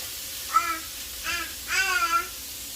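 A young boy babbles happily in short bright vocal bursts, close and clear, with a faint hum in the background during a home cooking session.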